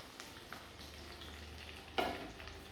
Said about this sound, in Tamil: இந்த இஞ்சியை நம்ம இந்த எண்ணெயில் போட்டு நல்லா செவக்க வறுத்து எடுப்போம்